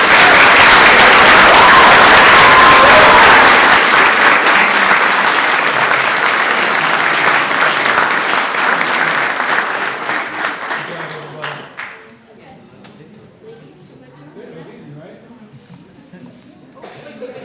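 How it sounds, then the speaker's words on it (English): An audience at a legislature public forum gives a big round of applause for the cheer coaches, loud sustained clapping that fills the room and then fades out, leaving a quiet room. "I think they deserve a big round of applause."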